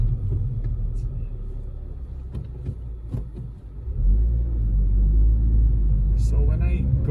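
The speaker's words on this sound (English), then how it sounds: "If you are trying to peel off on the first gear, there's a bit of grinding sound happening there" A Honda Civic Si with a K-series engine, grinding when pulling off in first gear: a loud, low engine rumble rises as it revs, with rough crackling, and voices talk over it.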